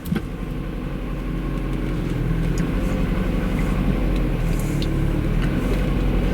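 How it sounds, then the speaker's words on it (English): A car with 66,900 miles on it idling close by, a steady low engine drone with a faint mechanical hum that holds even throughout with no revving. "I'm gonna let it idle down for a little bit, maybe"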